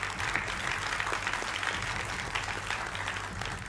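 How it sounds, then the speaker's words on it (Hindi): A studio audience at a televised political debate show claps together in a sustained round of applause, fairly soft and even, with no talk over it. "ताली थोड़ा बजा लीजिए आप लोग।"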